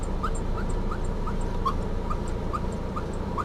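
A dog whimpers in a series of short, high, regularly spaced whines over a steady background rumble while people are stuck on a road, repeated about a dozen times at close range with no talk.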